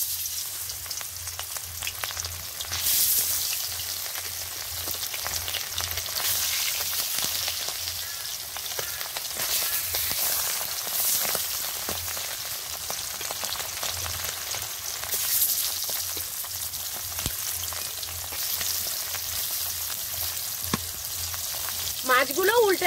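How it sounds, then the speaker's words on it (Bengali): Big chela fish sizzle in hot oil in a wok, a steady loud frying hiss running throughout with a few stirring clatters and no speech. "তেল গরম হয়ে গেছে, এবার মাছগুলো দিয়ে দেব।"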